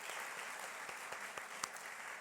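A congregation at a Christmas church service gives a round of applause for a child, a steady, fairly faint patter of many hands with a few louder claps standing out.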